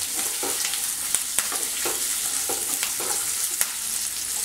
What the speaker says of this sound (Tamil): இதெல்லாம் அடுப்பு கொஞ்சம் சிம்மில் வச்சா கூட நம்ம வறுத்துக்கணும்.